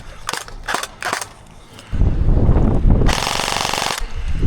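Airsoft gun fired during a game at an abandoned asylum in Wisconsin: a few sharp separate pops, then a long, loud rapid burst of snapping shots, close and clear.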